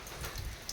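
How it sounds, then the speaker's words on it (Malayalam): Heavy rain falls outdoors near interlock paving, a brief, fairly quiet and even patter with a few slightly louder splashes. "ഇവിടെ നിന്നൊക്കെ നല്ല മഴ കേട്ടോ"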